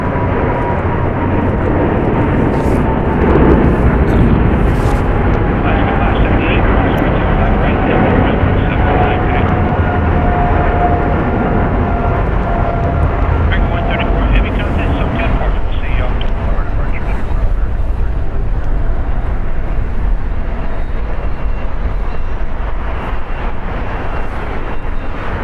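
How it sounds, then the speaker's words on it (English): A Boeing 777ER airliner of American Airlines departs from the south side of LAX, a loud, steady jet roar with a slowly shifting whine, heard from a distance and sustained throughout, with talk over it. "Departing here on the south side is American Airlines Flight 134 going to London. It's a Boeing 777ER, 8 years old."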